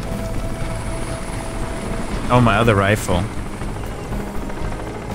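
A helicopter in the video game Crysis drones with rotor chop in the background while someone speaks briefly over it, alongside game sounds.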